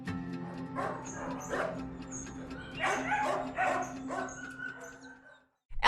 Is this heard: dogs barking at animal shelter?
yes